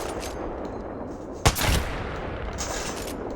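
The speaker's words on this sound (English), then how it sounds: "that was an accurate shot right there" A single Kraber sniper rifle shot in Apex Legends: one sharp, loud crack with a short decaying tail, standing out against a steady low game background.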